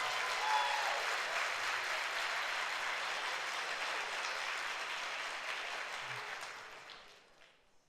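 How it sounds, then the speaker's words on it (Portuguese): A congregation at a Sunday church service claps loudly and steadily, a dense wash of applause that holds for several seconds before tapering off and fading out. "Então dá um aplauso bem forte para o Senhor."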